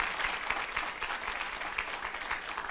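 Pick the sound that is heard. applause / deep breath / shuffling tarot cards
applause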